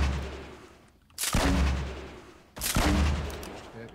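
Two bursts of gunfire from Fortnite Battle Royale, each a loud sudden blast with a trailing rumble that fades over about a second, spaced roughly 1.3 seconds apart, with no talking.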